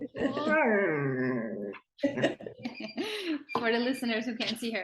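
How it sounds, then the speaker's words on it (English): A dog whimpers and growls in the background of an indoor conversation, the vocalizations mixed under and between people talking. "You may be able to hear the dog commenting on our conversation in the background."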